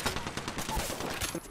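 Gunfire in the battle royale game Apex Legends: a dense, continuous rattle of rapid shots filling a short moment, loud and close.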